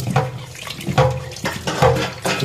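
Fish and vegetables are rinsed under a running tap, with water splashing steadily and surging in several bursts; no talking.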